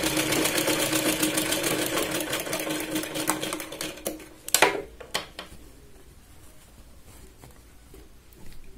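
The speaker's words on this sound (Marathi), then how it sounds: "2 वेळा साधारण आपण इथे शिलाई लावून घेऊया." A sewing machine runs fast stitching a katori blouse, a dense rapid mechanical patter for several seconds, then slows into a few separate thumps and clicks before falling to near quiet, with a brief stitch again at the end.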